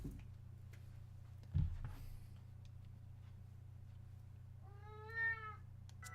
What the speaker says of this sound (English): the kitty, by the way, is right by the microphone, so I apologize if there's a loud meow